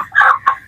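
Chickens making two short, close clucks, a longer call followed by a quick second one, alone and fairly loud.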